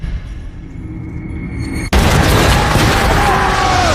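A film monster-movie explosion: low rumbling texture suddenly breaks into a loud, sustained blast of roaring noise that stays heavy and dense to the end.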